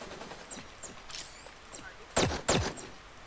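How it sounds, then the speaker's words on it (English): Gunshots in the mobile battle royale Super Mecha Champions, a few faint distant pops followed by two sharp, louder nearby shots close together, with a voice speaking briefly underneath. "Shots heard."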